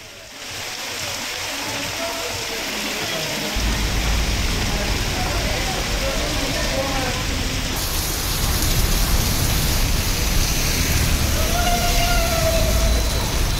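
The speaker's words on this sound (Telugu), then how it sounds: "హైదరాబాద్ లో భారీ వర్షం పడుతోంది." Heavy rain pours down in Hyderabad as a steady, dense wash of broadband hiss that thickens partway through, with faint background tones and possible distant voices.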